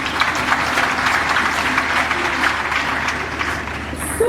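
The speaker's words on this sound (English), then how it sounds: "Clap for KNUST." Graduation ceremony audience clapping for KNUST at the 59th graduation, a steady, dense wash of applause from a large hall crowd, sustained and even throughout.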